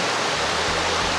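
A river flows steadily in the early morning, its broad, even rush of water continuous and close throughout with no other sounds.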